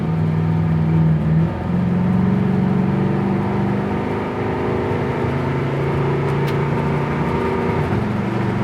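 A 1970 Oldsmobile 442 W-30 getting up to speed, a steady loud engine drone heard from inside the car, with a brief dip as it shifts gears, then a smooth continuous cruise.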